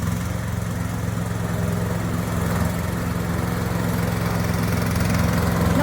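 A ride-on lawn mower engine runs steadily and loudly close by, a constant throbbing drone with no pauses and no talking.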